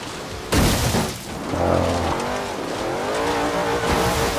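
A car in the video game Forza Horizon 3 drives at speed with a loud engine roar and a sharp, sustained tire screech as it skids.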